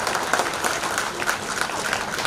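An audience claps for Narayana sir and Sailaja madam at a Kapu Teachers Welfare Association event. The applause is brief, dense and steady, close and fairly loud, with no speech over it.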